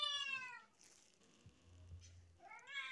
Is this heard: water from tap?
no